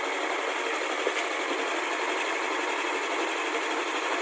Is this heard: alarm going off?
no